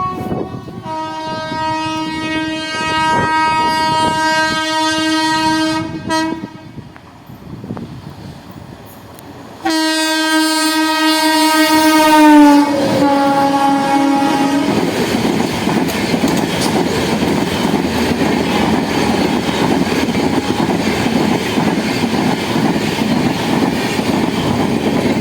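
The Machilipatnam–Secunderabad special express pulls into Machilipatnam station, sounding two long, loud horn blasts separated by a short pause. A steady rumble of wheels and carriages rolls on beneath and after the horns, close and dominant.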